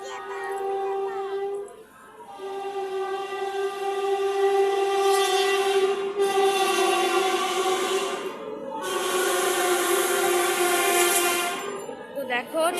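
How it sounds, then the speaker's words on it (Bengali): A train moving past a station, its horn sounding in long sustained blasts, with a steady rumble of wheels and carriages beneath, fairly close and loud. "তো দেখো ট্রেন যাচ্ছে।"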